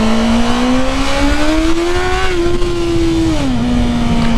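A Honda CBR 650R motorcycle being ridden, its four-cylinder engine humming loudly and steadily close by as the pitch climbs gradually through the gears, then holds and dips slightly, with wind noise underneath.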